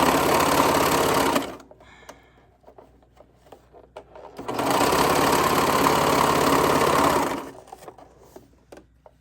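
A sewing machine stitches a leg garter in two loud, steady bursts, a short run and then a longer one, with quieter fabric handling and small clicks in between.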